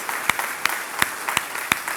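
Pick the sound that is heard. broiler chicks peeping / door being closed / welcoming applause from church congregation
welcoming applause from church congregation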